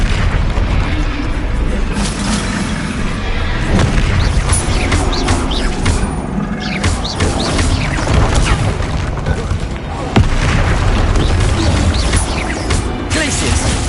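Spells cast in the Hogwarts Legacy video game, including a disarming charm, burst out as heavy booming blasts and pops over a dense, continuous rumble of effects, with a voice calling out spell names amid the noise.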